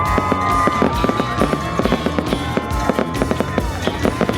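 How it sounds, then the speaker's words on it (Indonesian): Heiwa Hanabi fireworks display over Sleman at an Independence Day festival, a rapid run of sharp bangs and crackles firing in quick, uneven succession, loud and close. "Pesta kembang api Heiwa Hanabi menghiasi langit Sleman."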